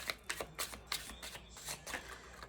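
Playing cards being drawn and shuffled from a deck at a tarot-style reading table, a run of crisp riffling slaps and flicks in quick irregular succession, close and fairly quiet.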